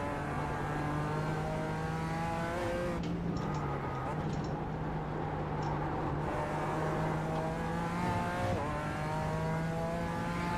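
GT race car engine lapping the Nordschleife in an iRacing qualifying session, a steady sustained drone with rising and falling pitch through gear changes, loud and continuous with faint talk mixed underneath.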